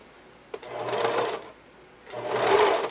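A sewing machine zigzag stitching elastic onto children's underwear, running in two steady whirring bursts separated by a short pause, close and loud, with a small click at the start.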